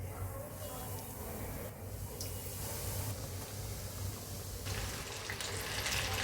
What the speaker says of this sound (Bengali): এখন আমি এটা তেলে ভাজা করব।